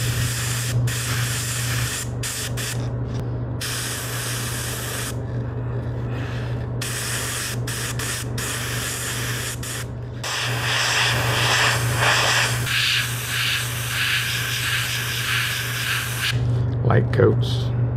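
An airbrush sprays paint through a stencil onto a helmet, laying light coats in short hissing bursts separated by brief pauses, then longer continuous spraying near a steady background hum.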